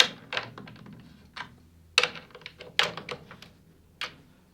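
Drum key turning the tension rods on the resonant head of a bass drum, a series of close, sharp clicks and small knocks in irregular bursts, with short pauses between turns.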